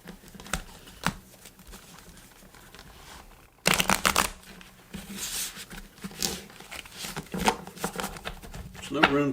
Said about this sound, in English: I shuffled this before, but I'll do it again.